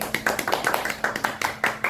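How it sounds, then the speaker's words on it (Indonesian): A small podcast studio audience claps briefly after guest speakers finish, the rapid hand claps close and moderately loud, layered into an uneven ragged patter over about two seconds. "Tepuk tangan dulu."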